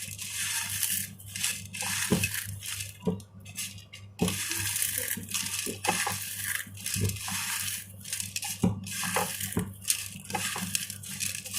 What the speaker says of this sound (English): So we have brown onion. Just slightly crush it